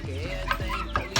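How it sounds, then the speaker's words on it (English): Chickens of several breeds on a farm flock of around fifty birds cluck close by in short repeated calls, with a brief louder squawk near the end. "So right now we have just around 50 chickens."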